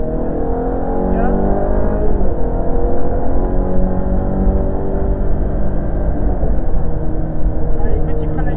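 A car engine revving and pulling up through the gears during a driving lesson, loud and continuous with rising pitch sweeps at each shift, while an instructor talks over it.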